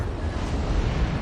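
A torpedo strikes a warship in World of Warships, a loud, dense, booming blast with deep rumble filling the whole moment, close and overpowering.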